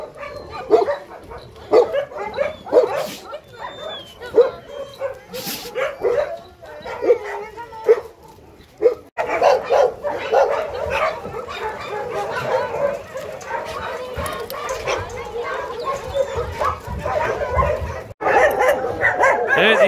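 Several dogs bark and yip in short bursts, some near and some farther off, with a whimper or two and a person's voice in the background.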